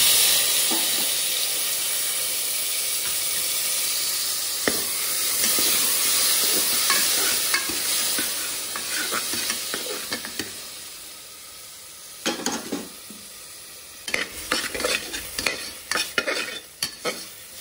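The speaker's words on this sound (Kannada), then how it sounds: "ಈಗ ಇದೇ ಕುಕ್ಕರಿಗೆ ಸ್ವಲ್ಪ ಇನ್ನೊಂಚೂರು ಎಣ್ಣೆ ಹಾಕ್ಬಿಟ್ಟು ಇದರಲ್ಲಿ ಟೊಮೊಟೊ ಹುರ್ಕೋಬೇಕು" Tomatoes fry in oil inside a pressure cooker, a continuous crackling sizzle with repeated spoon scrapes and clicks against the metal, growing more broken and clattery toward the end, close by with no voices.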